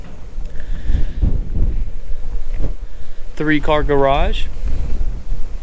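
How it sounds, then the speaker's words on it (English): Gusty wind buffets the microphone outdoors in a residential neighborhood with low rumbling bursts, while a person speaks briefly partway through. "it is a little bit windy today"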